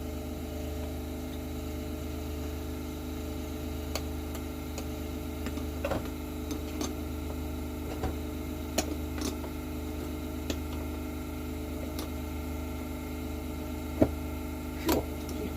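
Workshop air compressor running beside a Kohler Magnum 18 hp engine under repair, a steady low hum with scattered ticks and clicks of handled tools, quite faint overall.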